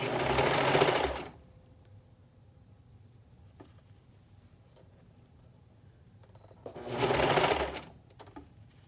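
A sewing machine stitches through three layers of fabric at a romper cuff, in two short bursts of running motor noise a few seconds apart with quiet between.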